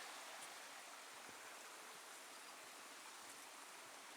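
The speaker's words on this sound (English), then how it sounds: "Just the sound of that water." A stream flows beside a hiking trail at Pictured Rocks, a steady, even rush of water that continues unbroken with no talk.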